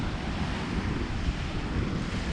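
Broad steady wash of sea surf on a Cretan shore, continuous and moderately loud, with wind rumble buffeting the microphone and no voices.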